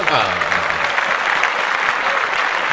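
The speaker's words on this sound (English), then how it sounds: "So we're going to clap that up one more time" Brief burst of group clapping in a podcast studio, loud and even for a couple of seconds, with voices mixed in over it.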